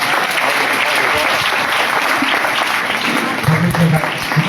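Church congregation at a Sunday service applauding loudly, a full, continuous wash of clapping from many people with voices mixed in toward the end.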